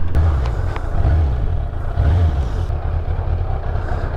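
A Suzuki Bandit 600 motorcycle engine with an idle problem runs loud and close, chugging at idle with a couple of surging revs, steady throughout with no talking.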